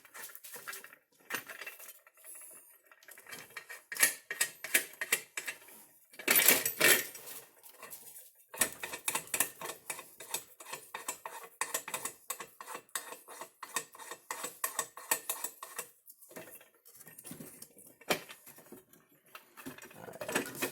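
A freshly assembled rock crusher starts up and runs, giving a busy metallic clattering and rattling with rapid ratchet-like ticks and clinks, close and steady for a long stretch, with brief pauses and no talking.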